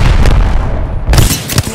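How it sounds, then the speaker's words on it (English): Arcstar grenade exploding in Apex Legends, a loud, close booming burst with crackling tail, followed by further sharp impacts in quick succession over a noisy battle. "Throwing Arcstar."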